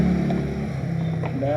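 A noisy electric hair clipper runs with a steady, close buzzing motor hum that holds a constant pitch throughout.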